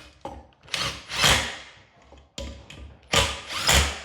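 Screws on a blade fitting being tightened with a power driver, a few short whirring bursts of varying length separated by pauses, close and fairly loud.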